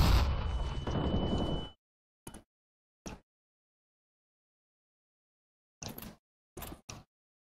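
A bomb explodes in the video game CS:GO, a loud, broad blast lasting under two seconds that cuts off abruptly, followed by several short, sharp bursts spaced across the remaining seconds.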